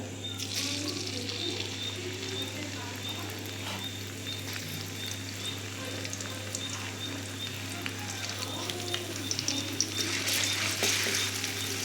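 Crushed garlic dropped into hot oil in a kadhai, a soft, continuous frying hiss over a steady low hum that grows a little busier and louder toward the end.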